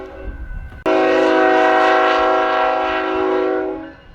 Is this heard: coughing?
no